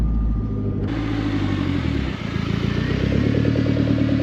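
A 1989 Lancia Delta HF Integrale heard from outside on the road, its engine a loud, close, rumbling drone with a burbling, pulsing exhaust that swells as it accelerates, with no talking over it.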